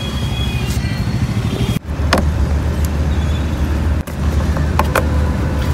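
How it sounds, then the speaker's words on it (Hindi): Faulty rear AC flap motor of a Ford Endeavour, a steady close mechanical hum with faint creaks and a couple of brief clicks, heard alone without speech. "ये वाली मोटर आवाज़ कर रही है"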